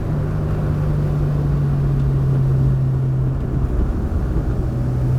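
An NA Miata fitted with a Honda V6 drones steadily from inside the cabin, its low engine tone holding nearly even under road rumble with no talking.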